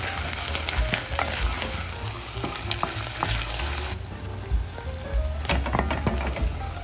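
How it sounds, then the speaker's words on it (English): Onions with salt cooking in oil and butter in a pan, a steady close sizzle with scattered crackles and occasional scraping stirs, loud and continuous with no talk. "Add our onions, some salt, and mix."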